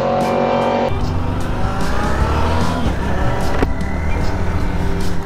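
A car speeds hard through a curve on a mountain highway, its engine loud and close as it accelerates and sweeps past, with tire noise and a rising then falling roar.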